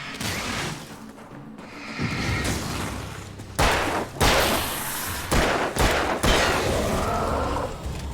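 Gunfire from the player's weapon in Alan Wake rings out in several sharp, loud bursts with booming echoes, spaced irregularly through a tense game scene with no talk.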